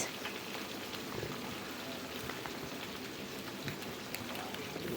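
Hilsa fish pieces rubbed with salt and turmeric fry in hot mustard oil in a wok, a close, even crackling sizzle with scattered spits throughout.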